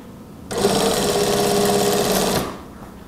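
A sewing machine stitches a kurta button placket in one steady, loud two-second run, starting and stopping abruptly amid otherwise quiet surroundings.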